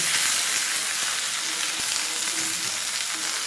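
Steady, continuous sizzle of broccoli frying in hot oil after garlic, loud and close, with a dense hiss and faint crackles throughout.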